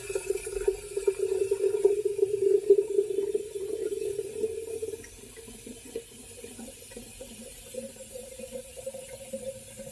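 Tap water runs steadily into a container for boiling for several seconds, then tapers off into quieter trickling, with no talking.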